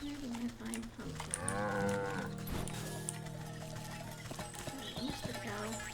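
A cow in the video game Wytchwood lets out a long, drawn-out moo that swells and fades over a couple of seconds, clear and close, with soft game music and ambience continuing around it.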